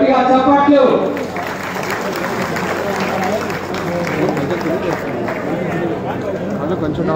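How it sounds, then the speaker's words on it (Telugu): An audience claps at a public event welcoming a state minister during a lamp-lighting ceremony. Sustained applause runs steadily under a voice talking over it. "గట్టిగా చప్పట్లు"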